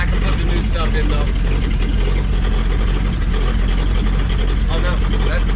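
A 1952 Packard flathead engine idles with a steady low rumble, close and fairly loud, while someone talks over it.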